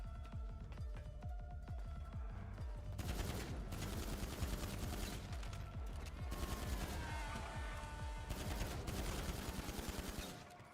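Gunfire in the FiveM video game comes as rapid automatic bursts and repeated shots in clustered volleys, fairly loud and continuous, with no talk over it.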